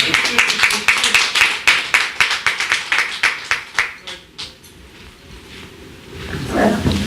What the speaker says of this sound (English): Let's give our guests another round of applause.